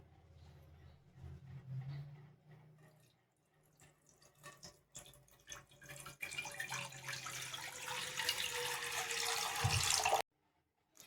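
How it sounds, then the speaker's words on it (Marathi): Water poured from a glass into a kadhai set on a lit gas stove, a steady splashing stream that builds and grows louder before stopping abruptly, with no talk. "2 ग्लास पाणी टाकून घेणार आहे."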